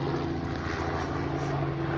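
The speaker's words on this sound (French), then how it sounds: "l'hélicoptère du matin qui passe" A helicopter passes overhead in the morning, a steady droning engine with a low rotor hum holding level and fairly loud for two seconds, with no talking.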